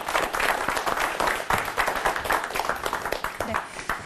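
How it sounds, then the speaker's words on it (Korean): Audience applause welcomes the director of the defense leadership development institute to a televised military leadership lecture; dense, steady clapping from a studio crowd runs throughout at moderate loudness. "박수로 맞아주시기 바랍니다"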